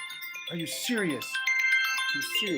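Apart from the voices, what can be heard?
mobile phone ringtone ringing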